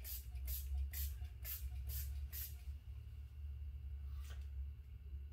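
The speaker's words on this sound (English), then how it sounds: "Just spray the area around the hole." Activator accelerator sprayed around a hole in a poly tank: six quick, even hissing bursts in a row, then one more after a pause, over a low steady background hum.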